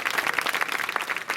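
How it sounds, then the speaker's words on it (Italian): Audience applause for event sponsors, a short burst of dense clapping from a crowd, steady and moderately loud throughout. "Anche qui vi chiedo un applauso per tutti i nostri amici sponsor."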